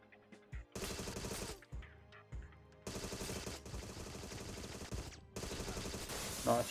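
Bursts of video game gunfire from Agent 64, a Goldeneye 007-style shooter, as the governor is shot, coming in three long dense volleys separated by short pauses, fairly quiet overall.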